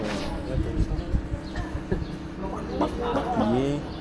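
Over noisy background chatter, a voice imitates a chicken with short, rising clucking calls, close by and moderately loud.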